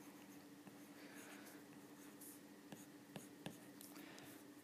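A stylus scratches and taps across a tablet screen while writing in a GoodNotes digital journal, with soft continuous strokes and a few sharper taps, close up and quiet.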